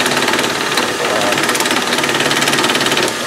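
A Logan lathe fitted with a collet closer runs steadily nearby, giving a loud continuous mechanical whir with a fast rhythmic clatter from start to finish.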